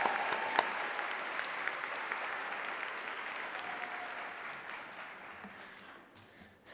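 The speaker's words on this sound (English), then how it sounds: "We have one more round of applause for these guys" A crowd of family, friends and faculty applauds at a nursing recognition event, steady broad clapping from many people with a few sharper claps standing out, easing off near the end.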